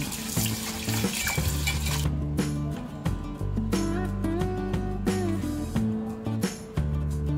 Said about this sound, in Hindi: सबको हम अच्छी तरह से दो तीन बार धो लेंगे